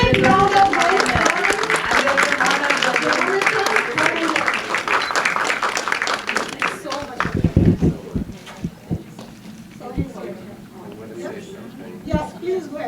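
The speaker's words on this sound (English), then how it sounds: "please give a great round of applause." An audience at the India International Film Festival of Boston applauds, a dense, steady clatter of clapping that thins into scattered claps, with voices talking over it.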